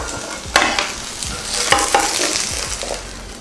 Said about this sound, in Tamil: இப்போ இத மாத்திட்டு கடலை வறுத்துக்கலாம்